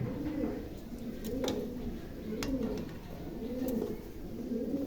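Soft, repeated coos of high-quality running pigeons at a pigeon farm roll in a steady rhythm, several low burbling calls in a row, fairly close with faint background noise.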